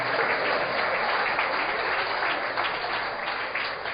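A church congregation claps together in a steady, dense wash of many hands, fairly loud and continuous from start to finish with no voices above it.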